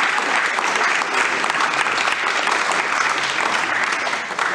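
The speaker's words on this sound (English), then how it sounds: "Give them a round of applause, please." A large ceremony audience gives a sustained round of applause for the players' parents, a loud, dense wash of many hands clapping at once that holds evenly from start to finish.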